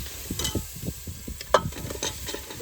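Vegetables drop into cooked masala in a pan and are stirred, giving soft crackling sizzle under scraping and clattering spoon strokes, close and moderately loud.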